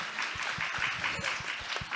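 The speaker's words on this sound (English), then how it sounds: "only one person applauded" A lone audience member clapping at a science communication panel discussion, a steady run of single claps about four per second, moderately close and alone.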